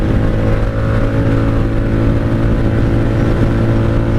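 A 1997 Honda Magna VF750C motorcycle cruising on the highway, running poorly on bad fuel in the carbs, its loud, steady engine drone and wind roar close and continuous with no voices.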